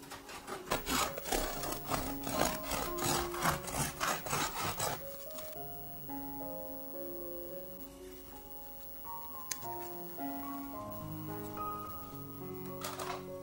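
A knife saws back and forth through a crusty, cooled homemade sourdough loaf in quick rasping strokes, close up, then the crust crackles softly as the cutting stops.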